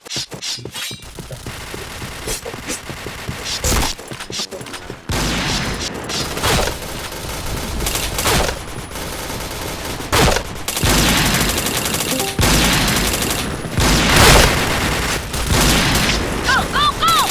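Gunfire in the shooter game Point Blank comes in rapid automatic bursts and heavy booms, loud and close, mixed with game sound effects throughout.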